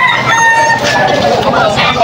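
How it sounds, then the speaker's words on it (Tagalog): Roosters and young stag chickens at a gathering in Malolos, Bulacan, with one crowing loudly and close by while other fowl cluck and call in the background. "Marami ng manok ngayon. Panay dito sa Malolos."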